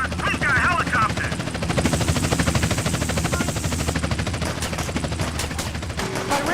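A helicopter in the video game GTA San Andreas beats with a loud, rapid rotor chop alongside bursts of gunfire, and voices can be heard amid the action.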